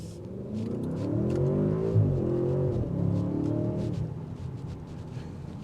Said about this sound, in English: Throaty exhaust note that filters in, and then it just becomes really quiet.